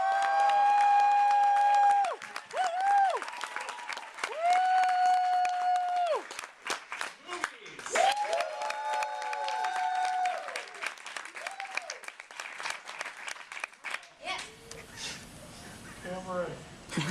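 Audience applause and cheering at a college spoken-word performance night, a broad crowd roar that rises and falls while people talk and call out over it.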